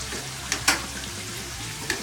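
Potatoes frying in deep oil mixed with a little ghee for biryani, a steady low sizzle with a few brief louder crackles and stirring clinks, close and unvoiced.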